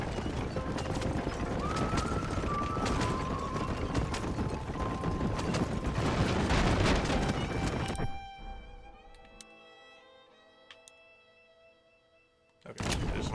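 Horse hooves clip-clop and a horse whinnies in the video game Red Dead Redemption, busy and close for about eight seconds, then a quieter stretch of sparse sounds before the game noise returns abruptly.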